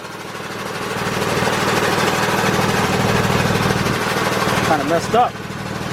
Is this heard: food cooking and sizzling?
no